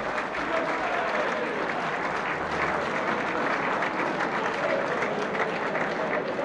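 Warm applause from a snooker crowd at a working men's club final in 1974, a dense continuous clapping that holds steady and close throughout.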